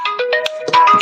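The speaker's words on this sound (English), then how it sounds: "sorry, that was a phone call." A mobile phone ringtone for an incoming call plays a short, bright electronic melody of rapid stepped tones, close and clear with no talking over it.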